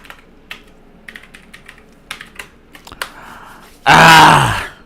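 Quick, uneven clicks of typing on a computer keyboard, close and moderately loud, break off into a short burst of louder rustling noise near the end.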